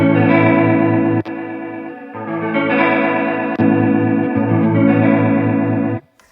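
Electric guitar chords played through a Fender Hammertone Chorus pedal set dark with the mix at full, a warm, wobbling, slightly lo-fi chorus with solid bass; several chords ring out alone before stopping.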